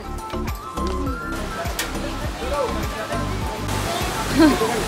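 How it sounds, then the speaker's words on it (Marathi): A small waterfall in Baneshwar forest near Pune gives a continuous splashing rush of water close by, with voices talking over the steady roar throughout. "असा काही खूप मोठा धबधबा नाही आहे, थोडा छोटासा धबधबा आहे."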